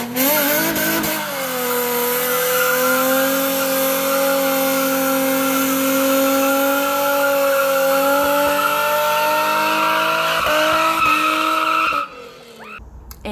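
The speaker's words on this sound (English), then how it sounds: "as we're getting ready to do the burnout, the noise startles the dog" A car does a loud burnout, tires squealing in a long sustained screech with engine revving, close by, before cutting off abruptly.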